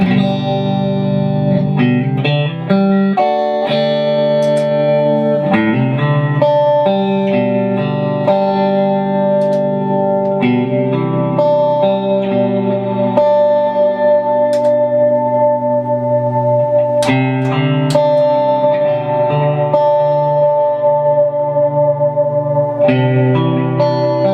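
Electric guitar played through a budget worship pedal board with light overdrive adds grit to ringing chords and arpeggiated notes, with echo and reverb tails, loud and continuous with no talk.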